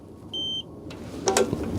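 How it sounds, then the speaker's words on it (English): A Cybertruck under-seat console safe's fingerprint lock gives one long, clear electronic beep, close and alone, followed by a couple of soft clicks. "1 long beep, and it's stored."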